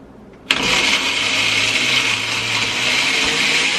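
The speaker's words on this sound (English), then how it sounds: "Okay, so now we just hit blend." A blender starts abruptly and runs steadily, whirring loudly as it blends a purple smoothie with berries and other fruit, a constant close motor roar with no talk.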